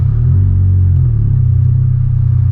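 A Honda Civic Type R driving through city streets, a steady loud low engine rumble with a slight shift in pitch partway through, no talk.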